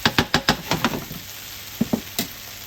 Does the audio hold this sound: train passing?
no